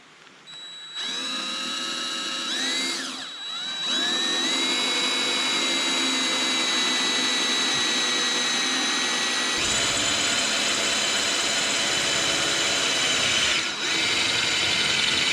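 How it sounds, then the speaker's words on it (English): A power drill bores out the end of a crack in a metal arbor support, whining loudly and steadily after a short start-up, its pitch dipping as the bit bites and briefly pausing before resuming. "So before I lose the end of this crack, I better drill it out."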